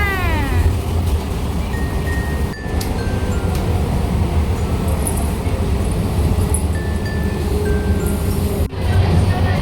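Steady low rumbling and rattling of a moving train interior, with a few faint squeaks and clicks over the continuous noise.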